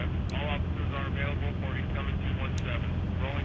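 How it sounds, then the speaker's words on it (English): Steady droning rotor and engine noise of a helicopter flying off in The Walking Dead video game, held at an even level under ongoing speech. "Well, there goes the chopper."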